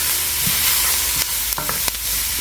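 Chopped vegetables sizzle and char in a soup pot over high heat turned down to low-medium, a steady frying hiss with a few sharp stirring scrapes and knocks near the end, no voices.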